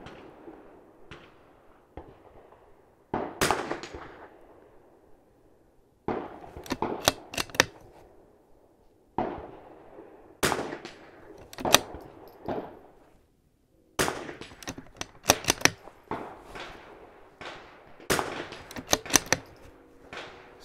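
A Ruger Mark II .22 pistol with a Holosun 507C sight fires at steel targets set at 80 and 100 yards on an outdoor range, with sharp, loud shots in irregular bursts and distant metallic target hits ringing between them, and no talking.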